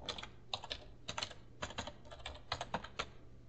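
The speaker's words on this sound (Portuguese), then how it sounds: "eu preciso digitar o meu CPF e que eu preciso digitar a minha senha" Quiet keyboard typing: quick clusters of key clicks in short irregular bursts, close and soft, over a faint steady hum.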